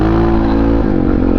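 A Honda XR650R motorcycle engine revving close by, a loud steady throaty drone that dips and roughens as the throttle changes.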